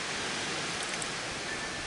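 Steady broadband rushing noise, like wind buffeting outdoors, continuous and fairly loud with no voices.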